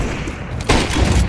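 A flashbang grenade goes off in CS2 with a sudden loud burst about halfway through, a booming broadband blast that lingers over a dense, noisy game background.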